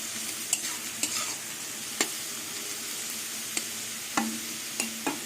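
Potatoes and onions fry together with garlic paste in a pan, giving a soft, low sizzle. Sharp spatula knocks and scrapes against the pan's sides come every second or so. No speech.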